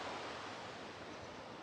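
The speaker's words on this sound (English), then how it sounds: "Nice sound of the water." Steady broadband rush of flowing water beside a secluded park campsite tucked among trees, continuous and close with an even, unbroken wash and no voices.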